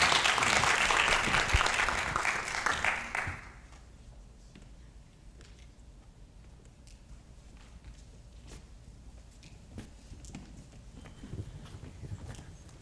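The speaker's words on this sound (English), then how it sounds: "Give him a round of applause, if you please." Applause from an audience at a pitch competition event welcoming a presenter on stage: a loud, dense burst of clapping for about three seconds, then dropping to quiet room ambience with a few faint scattered sounds.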